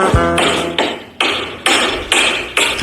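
Hammer striking nails, about six evenly spaced sharp blows, close and loud, each ringing briefly before the next, with no voices.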